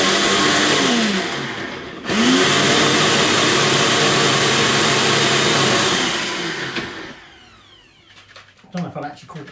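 A food processor whirs loudly and steadily, blending hot dogs into a liquid puree, with a short pause near the start, then running about six seconds before spinning down to quiet handling sounds.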